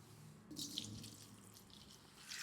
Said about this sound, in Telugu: కాస్త వాటర్ అనేది ఎక్కువ పోసుకోండి.